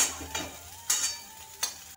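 Egg and vegetables for chowmein are stir-fried in a pan, a faint steady sizzle broken by three or four sharp scraping stirs of a utensil against the pan, with no talk.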